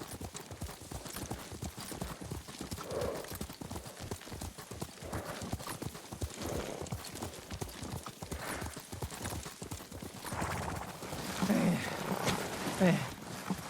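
Horse hooves clip-clopping at a steady riding pace in the Ghost of Tsushima video game, a continuous rhythmic beat under dialogue.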